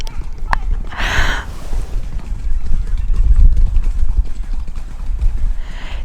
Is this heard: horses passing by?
yes